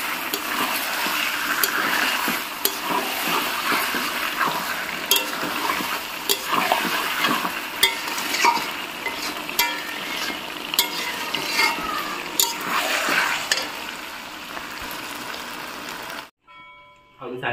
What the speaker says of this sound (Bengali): মটনটা কষছি ভালো করে দিয়ে আর প্রেসার কুকারে দেবো।